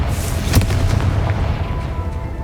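A Confringo spell explodes in the Hogwarts Legacy video game, a single deep booming blast with a rumbling tail that fades over a couple of seconds, heavy and close.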